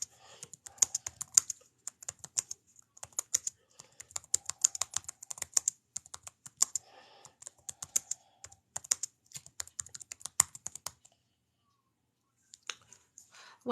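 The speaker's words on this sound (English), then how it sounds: "I'm just typing something up real quick." Rapid typing on a computer keyboard, close and fairly quiet, with irregular bursts of clicking keystrokes and short pauses, stopping briefly near the end before a few final taps.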